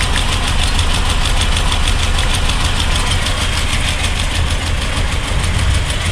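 A Land Rover Series 3 Lightweight engine idles with the number 3 spark plug lead pulled, a loud, close, steady chugging run with a slightly uneven, knocking pulse and no voices.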